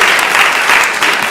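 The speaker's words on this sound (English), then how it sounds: "A big round of applause for the kids" An audience at a japa retreat claps for the kids, a dense, steady round of applause from a crowd that stays loud through the whole stretch without a break.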